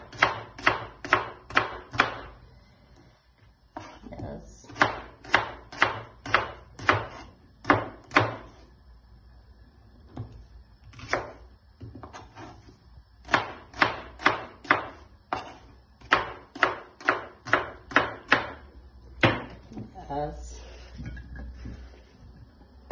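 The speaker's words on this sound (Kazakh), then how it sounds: "Енді қосатын нәрселерін тураймын. Сәбіз," Carrots and onions being chopped with a knife on a board for mutton soup, loud close rhythmic chops in quick bursts of several strokes, separated by short pauses.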